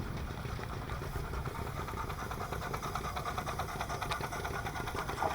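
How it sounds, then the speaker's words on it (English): A vintage Titan tractor engine runs steadily at a steam rally, a dense, continuous mechanical chatter with rapid even knocking and no pauses. "Nice old Titan tractor."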